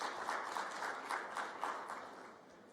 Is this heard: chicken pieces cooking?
no